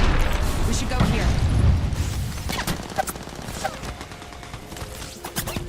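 Bursts of gunfire crack and echo through a Call of Duty: Modern Warfare II firefight, with a heavy boom early on and scattered shots, and a voice speaking over the action.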